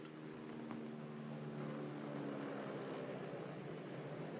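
A lead aircraft drones over a drop zone with a steady, moderately distant engine hum and faint tonal harmonics that hold level throughout.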